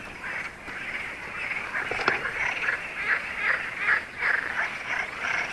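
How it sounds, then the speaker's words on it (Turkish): A dense outdoor chorus of frogs croaking continuously, with rhythmic pulsing calls rising and falling over steady ambient noise. "İşte görüyorsunuz kurbağa seslerini"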